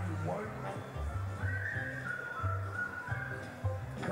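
Someone whistles a sustained, wavering tune in a church Noah's Ark musical during Sunday worship, mid-loud and close, over a rhythmic low backing accompaniment and voices.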